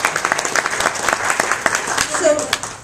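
An audience at a travel writers' symposium claps steadily, a dense patter of many hands close by, with a voice briefly heard near the end.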